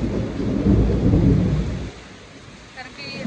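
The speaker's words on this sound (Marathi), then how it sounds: "अक्षरशः गाराचा पाऊस पडलाय आज, तिथे पण गारा पडत आहेत बघा. आवाज येत असेल तुम्हाला व्हिडिओमध्ये पण" Unseasonal hailstorm with rain and thunder, a loud heavy roar of downpour and rumble filling the first two seconds, then easing to a softer steady patter with a faint high tone near the end.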